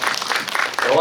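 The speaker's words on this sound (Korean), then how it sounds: "박수 한 번만 주시면" A theater audience at a film Q&A claps briefly, a short burst of applause with a voice speaking over it.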